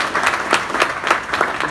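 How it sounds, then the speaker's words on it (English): Applause at a California political fundraiser, a round of clapping from the audience with rhythmic pulses from nearby hands standing out over the crowd. "So let's give them another round of applause"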